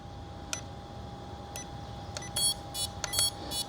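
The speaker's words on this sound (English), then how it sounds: "This is the beeper." An FPV drone's beeper gives short high electronic beeps at irregular intervals, a few longer chirping bursts near the end, over a faint steady hum.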